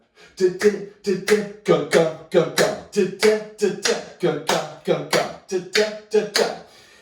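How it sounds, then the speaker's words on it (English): About fifteen sharp hand claps ring out close by in a fairly steady rhythm with slight unevenness, each one distinct and equally loud, with no talking around them. "if I just clap my hand"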